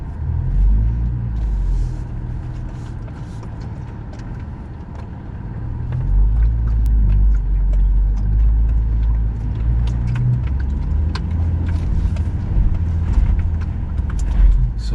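A Honda Passport AWD crawls uphill off-road in first gear on a Moab trail, its engine holding a low steady rumble that swells as it climbs, heard from inside the cabin, with a little talking.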